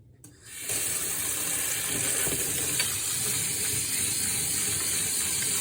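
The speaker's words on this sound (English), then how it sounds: "And giving this a good rinse." Tap water runs steadily and fairly loudly into a kitchen sink to rinse a pot used for dyeing with blue chanterelle mushrooms, starting after a brief quiet moment and continuing without talk.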